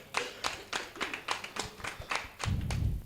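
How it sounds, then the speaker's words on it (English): A small group at a climate tech pitch event claps briefly, a few sparse hand claps in an uneven rhythm, fairly close and quiet, ending in a short rustling burst. "A round of applause for him."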